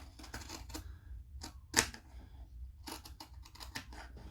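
Fiskars scissors handled and snipped, giving a few soft clicks and rustles, one sharp near snip in the middle and more light clicking and handling noise after it, with no talk.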